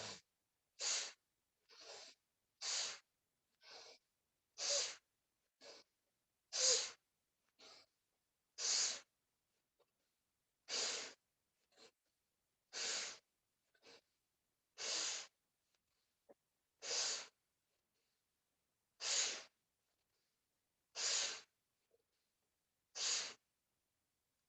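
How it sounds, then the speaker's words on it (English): Forceful Bhastrika yoga breaths come as a long series of close, sharp nasal bursts. They are spaced about a second apart with short silent pauses, and no talking. "let's do another round of Vastrika, the forceful breaths"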